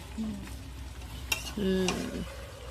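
Chicken being kosha-fried sizzles softly in a pan under occasional stirring scrapes, with a sharp clink partway through and brief tonal household sounds in the background.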